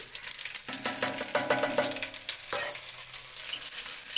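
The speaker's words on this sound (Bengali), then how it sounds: "কড়াইতেই দিয়ে দিয়েছি আলুটা কষাচ্ছি" Close frying of potatoes in a wok with scraping, clattering stirs over a hissing sizzle, a burst of rapid metallic scrapes, then quieter sizzling.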